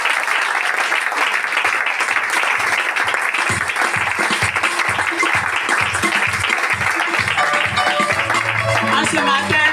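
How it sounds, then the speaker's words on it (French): A church congregation applauding and cheering for Jesus, loud, dense clapping that carries steadily throughout, with voices shouting along and music rising toward the end. "On acclame encore Jésus."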